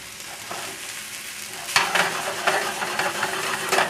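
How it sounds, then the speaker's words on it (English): Whole eggs frying in a pan on a stove, a steady sizzle that jumps louder partway through with scraping and stirring bursts from a utensil, close and continuous with no talk. "whole eggs act quite differently than just egg whites"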